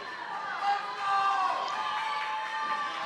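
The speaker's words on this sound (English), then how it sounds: "we got a lot of crowd hype going on right now for Mr. Andrew Pickert" A crowd cheers and shouts at a ninja obstacle competition, a sustained roar of many voices with a commentator talking over it.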